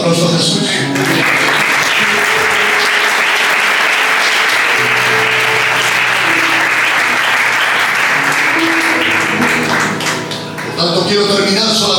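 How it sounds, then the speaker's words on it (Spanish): A church congregation applauding, loud sustained clapping from a large crowd that continues for about ten seconds before tapering briefly and picking up again at the end. "¿Le das un aplauso a Jesús?"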